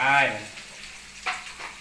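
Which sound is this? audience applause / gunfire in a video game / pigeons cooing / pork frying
pork frying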